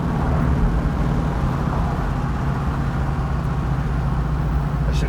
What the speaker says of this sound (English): It's amazing how tame this exhaust sounds for the way it's set up.